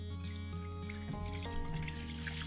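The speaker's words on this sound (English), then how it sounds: "what I'm going to do is I'm just going to pour the water out" Water pours steadily from a measuring cup during a snow globe repair, a continuous close splashing trickle with no talk.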